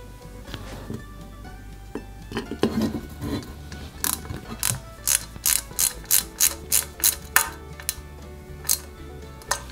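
A small screwdriver tightens screws into a Peugeot 205 GTI 1.9 scale model during assembly. It starts with fiddly handling, then gives a quick series of about a dozen sharp ratcheting clicks in a regular rhythm.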